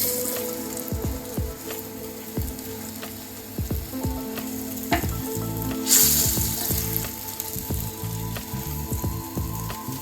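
Malai kofta frying in a small amount of oil until pink gives a steady, close sizzle with scattered crackles and pops, and one brighter hiss or clink partway through.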